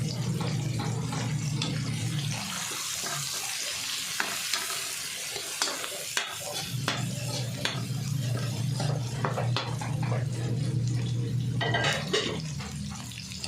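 Ginger and lemongrass sautéing in a hot pan, a steady close sizzle with stirring scrapes and clatters running throughout, briefly dropping before the frying hiss returns strongly.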